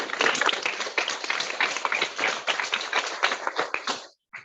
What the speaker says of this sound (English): thank you for clapping for every candidate